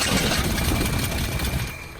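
A car engine being cranked over in a workshop during a spark check on a cylinder, a loud, rough continuous churning rumble with no talk over it.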